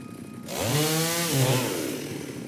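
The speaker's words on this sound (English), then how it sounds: "Yeah, really like my new chainsaw." Chainsaw cutting in the video game Icarus, a loud buzzing engine snarl that revs up, dips briefly and rises again over about two seconds, with no one speaking.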